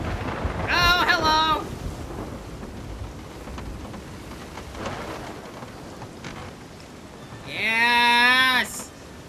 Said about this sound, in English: Getting stormy over here!